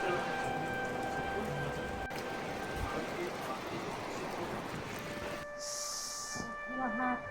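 Steady rain patters outside a roadside dhaba in a Himalayan mountain village as heavy snowfall begins, a dense continuous hiss throughout with a brief bright tone near the end.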